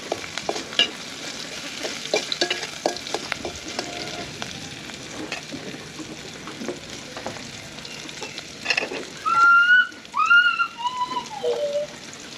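Onions soften in a frying pan as they are stirred, giving a quiet, soft crackle with scattered scraping taps. Near the end, brief whistle-like tones rise above it.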